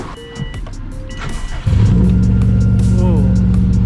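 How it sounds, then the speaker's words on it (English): A cheap Subaru STI cold-starts after a short cranking, then its engine catches and holds a loud, steady, rumbling high idle with a rising rev, close up, with faint talk early on. "let's get a cold start going"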